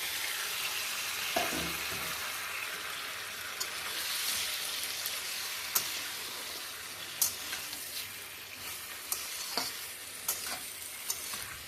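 Malabar spinach stems and leaves frying in a pan with ridged gourd, a steady close sizzle broken by scraping stirs and occasional clinks of the spatula.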